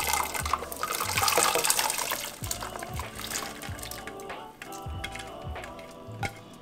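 Rinsed maize kernels are tipped into a pot of water for pozole, giving a steady splashing pour with small clinks and sloshes that fade toward a softer trickle.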